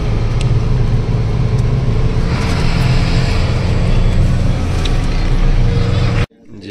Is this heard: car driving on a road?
yes